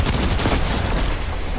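Steady rattle of enemy gunfire in a video game, a dense continuous fusillade of rapid shots filling the whole moment with no pause.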